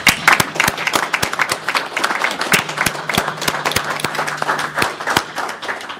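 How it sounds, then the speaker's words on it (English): A room full of people at a board meeting claps steadily, a sustained round of applause with some sharper individual claps standing out near the microphone. "I think we owe him a round of applause"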